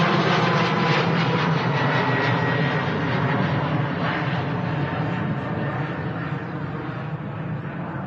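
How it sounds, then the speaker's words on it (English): A Ryanair Boeing 737 MAX 200 roars past at Manchester Airport, its engines giving a loud, steady broadband rush that slowly fades over the whole stretch. "I can hear a Max. Yes. Ryanair Max A200."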